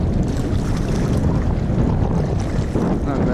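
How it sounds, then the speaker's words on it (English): Strong, gusty wind roars and buffets the microphone during a ride in an inflatable Aquaglide Chelan kayak in pre-tropical-storm conditions, a loud, constant low rumble mixed with water noise and no clear talk. "Strong wind."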